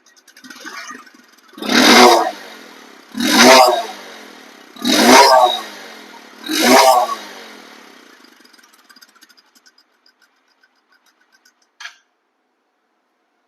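A second-hand 125cc motorcycle engine revs loudly four times in even bursts about a second and a half apart, then drops back to a low idle that fades out.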